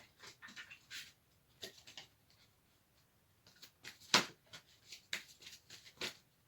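Angel oracle cards being shuffled by hand, quiet and close, in short papery riffling bursts with a sharp snap near the middle and brief pauses between runs.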